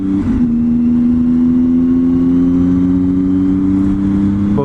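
A Triumph Tiger motorcycle pulls away on a cold, wet road, its engine holding a loud, steady droning tone that rises slightly as it accelerates through a short shift, close and continuous.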